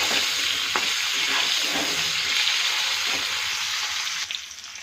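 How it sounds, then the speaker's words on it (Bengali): Cauliflower and other vegetables sauté in a hot pan, with a steady loud sizzle and scraping stirs throughout that trail off softer near the end, with no talk. "একটু কষিয়ে নেব।"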